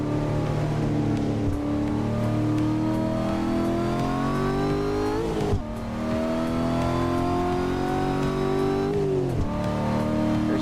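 A Cadillac's engine drives in a video game, a loud, steady hum that climbs in pitch through the gears with two clear shift drops, and no talking over it.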